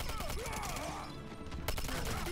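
Rapid gunfire from the shooter game Quantum of Solace on PC, a dense burst of shots at the start and again near the end, with a brief lull between and a voice faintly present.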